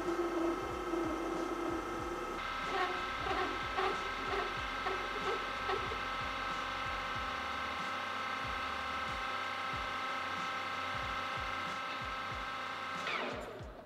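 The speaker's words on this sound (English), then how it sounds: "We are gonna try to friction weld this together." Maraging steel parts being friction welded on a lathe, a steady loud mechanical whine and grinding with rhythmic low thumps underneath, continuous until it winds down abruptly at the end, with no voices.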